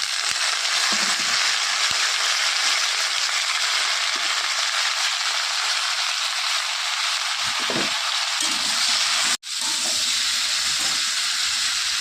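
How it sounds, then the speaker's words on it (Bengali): Potatoes frying in hot oil in a wok give a loud, steady sizzle and hiss that runs unbroken, with a brief sharp cutoff near the end and no talking. "এখন কোয়া আলুগুলো ভেজে নেব"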